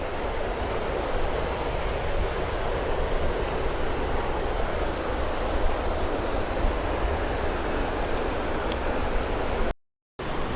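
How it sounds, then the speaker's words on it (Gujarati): Steady, dense rushing water from a waterfall near Khodiyar temple in Ghaghaliya, a broad continuous roar that holds level throughout, with a brief dropout near the end. "સામે ધોધ વહે છે"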